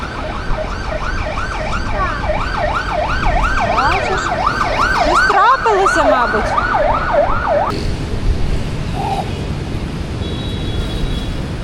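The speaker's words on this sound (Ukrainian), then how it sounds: "О, ну, дивися, їдуть машини, хто їдуть? Поліцейські? Поліція їде." Police car sirens wail, sweeping up and down over steady traffic noise, then fade as the vehicles pass; people talk briefly nearby.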